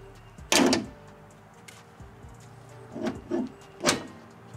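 The hood of a new 2022 Ford F-250 truck slams shut with one sharp, heavy thump, followed by a few softer clunks and rattles, close by and without talk.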